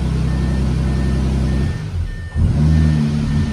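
A B8.5 Audi S4 bought from auction, with no coolant and many faults, idles loudly and steadily with a low, rough engine rumble that dips briefly midway before settling back to idle.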